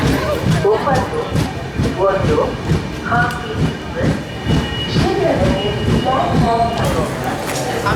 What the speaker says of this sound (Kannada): ಇಪ್ಪತ್ತೈದು ನಿಮಿಷ ಡಿಲೇ ಆಗಿ ನಮ್ಮ ಹಂಪಿ ಎಕ್ಸ್ಪ್ರೆಸ್ ಇವಾಗ ಎಂಟರ್ ಆಗಿದ್ರೆ ಕೊಪ್ಪಳ ರೈಲ್ವೆ ಸ್ಟೇಷನ್ಗೆ